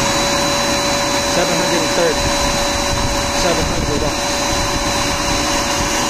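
A vacuum cleaner running off a portable battery power station gives a loud, steady whirring roar that holds for the whole stretch, with a person talking over it.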